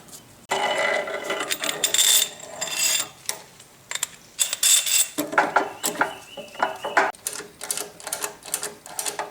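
Pinions and gears slide and clank along the table shaft of a Yates American B244 bandsaw during dismantling, giving close, loud metallic rattles and ratcheting clicks in irregular bursts with brief pauses between them.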